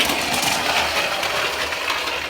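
A room heater running close by in a craft room, giving a constant, fairly loud broadband whir with no pauses.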